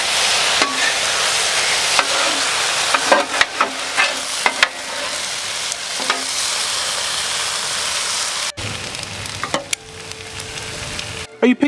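Sauce sizzling loudly over chow mein and shrimp on a Blackstone flat top griddle, a dense continuous hiss with spatula clicks and scrapes, briefly dropping before resuming.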